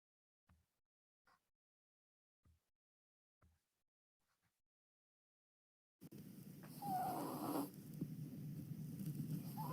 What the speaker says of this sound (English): So this is the snoring.